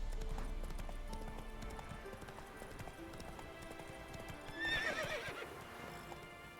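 Hooves of the horse Roach in The Witcher 3 video game clip-clop steadily throughout, with a loud whinny rising near the end over faint game ambience.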